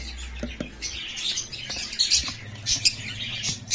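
Many small breeder birds chirp and tweet in a busy, continuous chorus, close by, with occasional squawks and a brief low rumble near the start; no one speaks.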